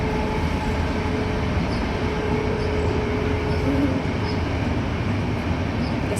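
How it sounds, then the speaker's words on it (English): A train rolls past at close range, a loud, steady rumble with rail noise that holds evenly for several seconds, with no voices over it. "There's a train passing by."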